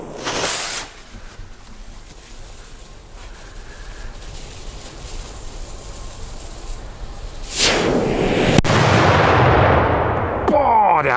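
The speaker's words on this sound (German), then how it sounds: "fangen wir direkt mit dem Mordra-Böller an" A Polish Mordra firecracker blasts with a sharp, loud report, then a long crackling, rumbling tail rolls on for several seconds before a second burst of crackle near the end, heard outdoors with no talking.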